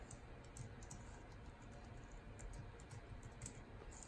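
Someone types with one hand on a computer keyboard in a setup with a 1999 Apple Studio Display CRT. The key taps are faint and irregular over a steady background hiss.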